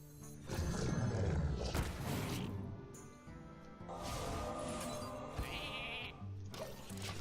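Sheep bleats from a creature transformed in the Hearthstone card game, a loud wavering bleat early on, then further bleating cries with no talk.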